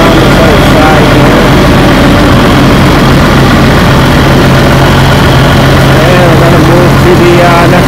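A farm tractor engine idles steadily and loudly at close range, a constant low drone with a faint steady whine above it, running continuously throughout.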